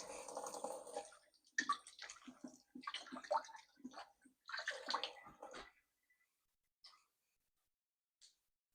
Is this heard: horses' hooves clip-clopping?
no